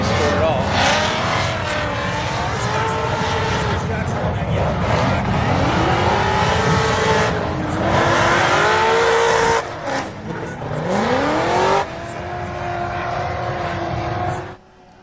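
Race cars make qualifying runs at the LS Fest car event, one spinning out: loud engines rise and fall in revving sweeps with squealing tires nearby, and people talk over the noise.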